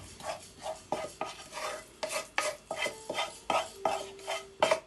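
Vermicelli being mixed by hand with olives, sliced mushrooms and sauce in a pan, heard as a repeated rhythm of soft squelching, scraping strokes with occasional light clinks of the pan, close up and with no voices.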